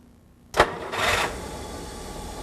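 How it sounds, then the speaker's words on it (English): An early post-war Rolls-Royce engine starts with a sharp starter crank followed by a brief rising burst as it catches, close and fairly loud, then settles into a quieter hum. "And now it's time to start the engine."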